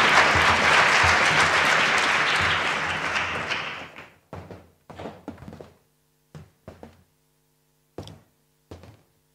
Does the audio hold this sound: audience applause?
yes